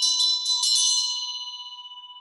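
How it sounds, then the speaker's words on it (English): A small ritual hand bell shakes briskly for about a second, then its bright metallic tone rings on and slowly fades, heard up close and alone. "and you ring that bell"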